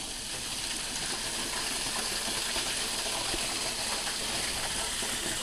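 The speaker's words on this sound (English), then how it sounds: "the water started going crazy and shooting up in the air" Water gushing and spraying up into the air from a malfunctioning koi fish pond, a dense, steady rushing hiss, close and loud.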